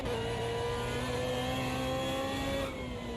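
Aston Martin race car engine in a racing video game revving hard at a steady high pitch, a loud continuous whine that dips slightly near the end.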